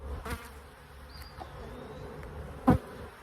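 Honey bees buzz around an open hive during an inspection, a soft close hum with individual bees flying past the microphone and one sudden louder buzz near the end.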